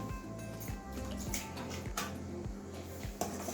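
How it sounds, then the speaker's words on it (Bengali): Water splashes and trickles as a mixer jar is rinsed out and a little water is poured back in during cooking of a drumstick curry, with soft clinks and drips at moderate volume and no voices. "মিক্সির বাটিটা ধুয়ে আবার একটুখানি জল দিয়ে দেবো।"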